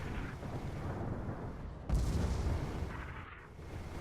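Sustained heavy automatic fire from three Gatling guns in a vehicle combat video game, hammering at the armor of a Corsair; a dense, continuous rumble that swells into a louder burst midway, with no talking.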